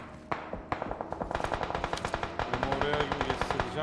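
Rapid automatic gunfire from PUBG Mobile, a steady stream of close, sharp shots building into a dense burst over several seconds, with faint talk underneath.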